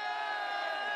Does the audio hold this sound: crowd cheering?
yes